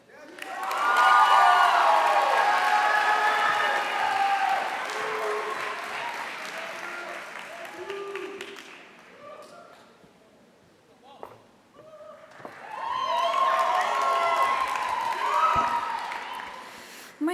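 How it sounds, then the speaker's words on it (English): An audience at a morning chapel service for student government elections applauds warmly, with a long burst of clapping and cheering that fades, then a second round of applause; a voice speaks in between. "What a warm round of applause."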